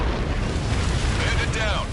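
A fighter jet explodes after a missile strike in the Ace Combat 7 air-combat game, heard as a loud, continuous roaring rumble with a rising whoosh near the end, layered over constant engine noise.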